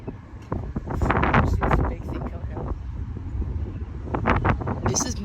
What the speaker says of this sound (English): Here we go with the gust front.